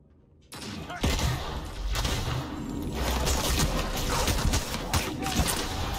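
A space weapon fires in the Outer Worlds video game: after a short quiet start, a dense run of loud blasts and impacts follows, with crackling bursts over several seconds.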